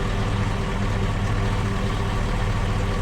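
A car engine idles steadily in Farm Sim 22, a continuous low rumble with a loud, even drone and no talking over it.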